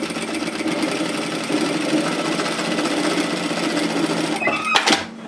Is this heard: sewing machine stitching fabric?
yes